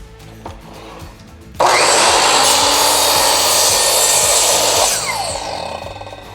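Bauer 10-inch dual bevel sliding miter saw slicing through a wood board: a sudden loud, rough cutting roar that holds for about three seconds, then eases into the fading whir of the spinning blade.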